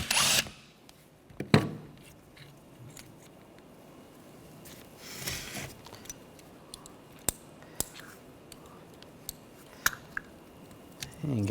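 Power tool spinning out the alternator pulley bolt on a 2009-2013 BMW 328i xDrive 3.0L inline-six with a 16mm socket, a short whirring burst near the start over a quiet garage background with scattered small clicks.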